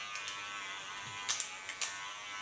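An electric hair clipper buzzes in a steady, faint hum as its blade cuts short hair at the back of the head, with a few soft clicks and brief brushing bursts, no talking.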